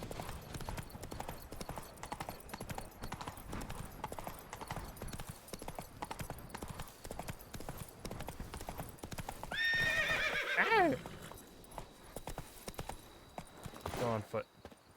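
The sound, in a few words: horse Roach galloping in video game The Witcher 3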